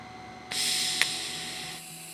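Welding on steel plates: a close, steady hissing arc that starts abruptly, holds for just over a second with a brief sharp pop, then stops.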